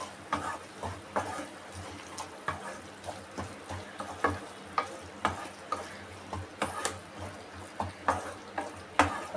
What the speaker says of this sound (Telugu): ఇంకా అట్లా సిమ్లో పెట్టేసి ఇట్లా ఉడుకుతుంది అన్నమాట.